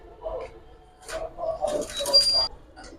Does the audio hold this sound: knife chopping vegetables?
no